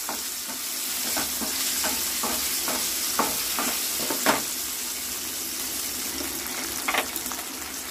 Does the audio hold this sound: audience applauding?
no